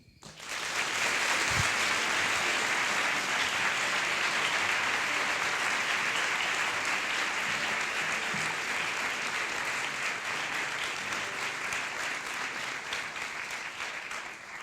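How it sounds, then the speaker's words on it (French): Loud, sustained applause from an evening storytelling audience welcoming a performer, a thick wash of many hands clapping steadily for about fourteen seconds before slowly easing off. "Merci d'applaudir très fort Marine."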